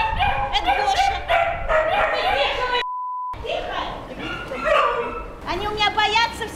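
Many dogs kept in an apartment bark and yip in overlapping bursts close by, with some whimpering and human voices mixed in.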